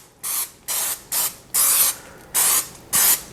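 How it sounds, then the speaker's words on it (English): Cooking spray hisses from an aerosol can into a bundt pan for a rum cake. Six loud, close bursts of spray, each about a third of a second long, come in a steady rhythm with brief silences between them. "we're just gonna spray it down with this cooking spray"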